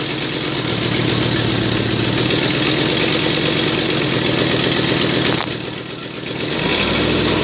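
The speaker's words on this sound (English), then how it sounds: "Engine run video, engine is bad, so is the transmission." A 2006 Dodge Dakota pickup with a bad engine idles loudly and steadily up close, with a rough rumble that dips briefly near the end before picking back up.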